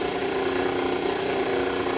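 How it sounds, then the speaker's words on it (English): A polishing machine motor runs at a steady pitch, a continuous even hum with a faint mechanical rattle, close by and alone. "I'm gonna just start or turn on the motor."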